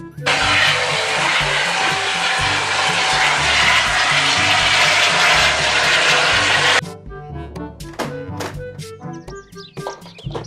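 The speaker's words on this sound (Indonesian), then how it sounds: "Helikopter." A toy helicopter whirs loudly and steadily for several seconds, then stops abruptly. A scatter of small clicks and thunks follows.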